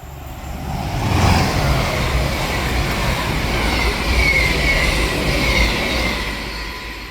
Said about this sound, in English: the next train to pass through is going to be a cross-country Voyager